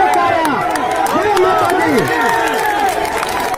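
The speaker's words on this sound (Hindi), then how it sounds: "आरती होने के बाद जो है देखिए कितना ज्यादा भीड़ हुआ है" A dense crowd roars and shouts throughout a Durga idol immersion procession in Munger. The noise is a thick, continuous wall of voices with rising calls, loud and close, at a large festival gathering.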